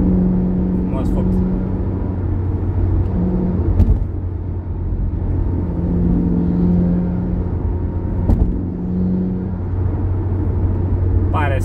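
A Subaru Impreza WRX STI with its stock exhaust idles and rumbles steadily nearby, a low continuous engine drone with slight swells, while people talk over it.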